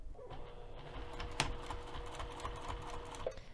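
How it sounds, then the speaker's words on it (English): A sewing machine with a zipper foot stitches the pinned edge of an English paper pieced pouch at a quarter-inch seam allowance, giving a close, continuous mechanical whir with a fast, even stitching rhythm throughout. "I'm going to take this over to the sewing machine, and we're going to sew the pinned edge using 1/4 of an inch seam allowance"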